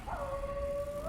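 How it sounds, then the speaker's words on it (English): A single dog in Dishonored 2 lets out a sustained, steady howl that rises briefly at the start and holds its tone, close and clear over a low game ambience. "That's a dog."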